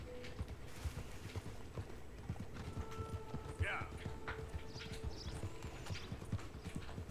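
Horse hooves clip-clopping in the Red Dead Redemption 2 video game, a steady quiet run of hoofbeats with a brief whinny partway through, under background game sounds and speech.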